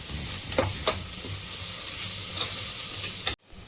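Ginger-garlic paste with spices frying in a pan for paneer pulao, a steady close sizzle with a few scraping stirs, cut off abruptly near the end.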